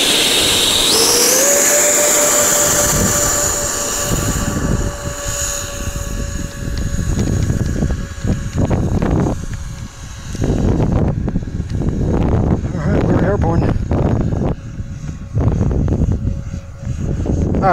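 A radio-controlled model of a Norwegian 737 Max-7 jet flies with a loud electric ducted-fan whine that drops in pitch as the power is cut back, then surges and fades unevenly as the plane passes.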